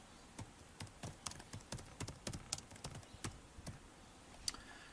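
Someone types a description on a computer keyboard, a quiet, close run of irregular key clicks and taps with short pauses between bursts.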